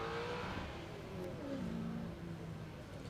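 An old Ford GT Falcon race car accelerates hard with wheel spin and smoking rear tyres at the Rob Roy Revival, its engine note rising, fairly distant and faint.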